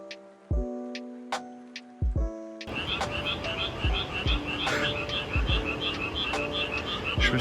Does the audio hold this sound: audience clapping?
no